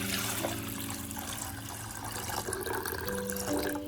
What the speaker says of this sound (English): Now, bring a pot of water to a rolling boil.